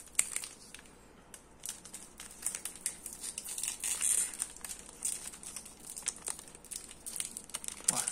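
Cutting open a Dragon Ball Z Super Card Game special anniversary box gives irregular crinkling and tearing of packaging, close and fairly quiet, with quick scattered crackles throughout and no voices.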